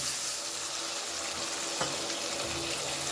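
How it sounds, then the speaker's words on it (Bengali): Water from a grinding stone poured over hilsa fish in a pan, a continuous close rush of liquid that runs for the whole stretch with no talk. "এবারে আমি শিল দোয়া জলটা এই মাছের মধ্যে দিয়ে দেবো সামান্য একটু জল"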